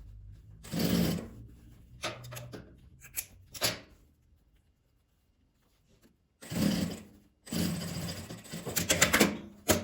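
Sewing machine stitching the sides of a multi-pocket fabric toiletry pouch trimmed with matching bias binding, in short stop-start bursts with a long quiet gap between runs.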